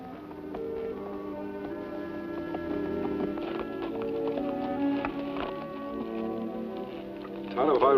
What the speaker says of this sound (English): A fiery horse with the speed of light, a cloud of dust, and a hearty Hi-Yo Silver.